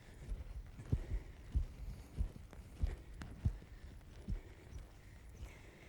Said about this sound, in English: These horses demonstrate a pretty collected, comfortable canter